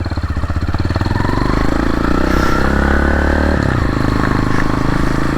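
A Tenaci Wong two-stroke trials motorcycle rides up a mountain road at high altitude near Kangding, Sichuan, its engine buzzing loud and close with steady revs and some rattle throughout.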